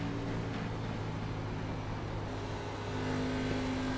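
An ARCA race car engine at Atlanta Motor Speedway in the iRacing sim drones at a steady high pitch, then swells briefly as the throttle comes on, faint and continuous without talk.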